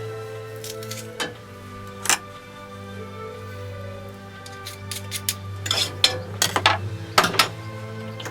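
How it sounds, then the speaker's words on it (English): Shrimp and garlic sautéing in bacon grease in a pan, a soft steady sizzle under scattered sharp clinks and scrapes of a utensil against the pan, growing busier toward the end. "we're going to saute the shrimp with a little bit of bacon grease"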